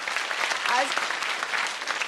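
Audience applause fills a London talk event, a dense, steady wash of clapping from a crowd that runs throughout without a break.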